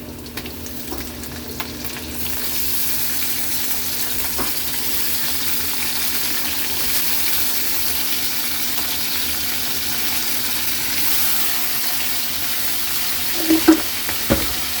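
Pork frying in a pan with onion and garlic, a steady close sizzle that holds evenly throughout, with a few brief clinks and stirring taps near the end.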